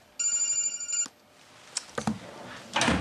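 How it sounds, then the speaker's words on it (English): A mobile phone rings inside a closed drawer, giving one steady electronic ringtone burst of about a second. Quieter knocks and shuffling follow. "Why is the drawer ringing?"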